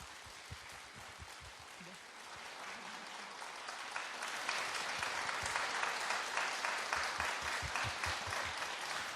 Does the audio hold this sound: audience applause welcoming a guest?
yes